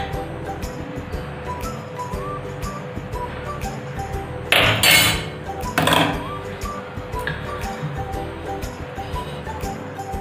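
A metal pot of milk being set on a gas stove to boil, with two brief clanking, rattling bursts in the middle against a low, steady kitchen background.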